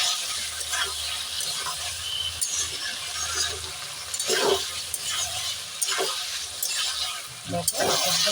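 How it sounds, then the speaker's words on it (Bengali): Spices for a cucumber and shrimp curry sauté in a pan, giving a steady, moderate sizzle with occasional stirring scrapes while a voice talks over the cooking. "দেখো একদম কষে উঠছে"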